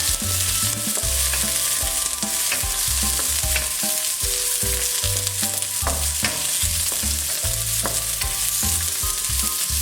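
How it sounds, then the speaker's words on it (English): Carrots and green peppers stir-frying over high heat in a wok for black bean tofu: loud continuous sizzling broken by frequent rhythmic scraping and tossing strokes of a utensil, no voices. "Like any stir fry, these has to be on a high heat and cook quickly."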